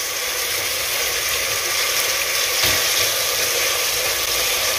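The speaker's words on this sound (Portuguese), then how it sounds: "Vamos deixar ela fritando aqui junto com os temperos." Meat fries in a pan with seasonings, a steady, bright crackling sizzle, close and continuous, with a brief soft bump midway.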